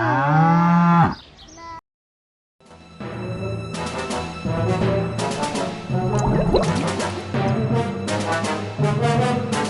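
Animated cow mooing: a loud, low, drawn-out moo, a brief silence, then a lively cartoon music and effects bed with further cow sounds, close and prominent.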